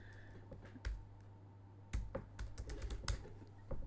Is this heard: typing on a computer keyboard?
yes